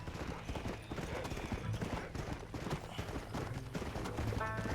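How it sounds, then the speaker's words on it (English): Galloping horse hooves from the Red Dead Redemption video game, a steady rapid clip-clop rhythm running throughout, mixed with game music and ambient sound at moderate level. "I forgot what it was like to ride like a fast horse."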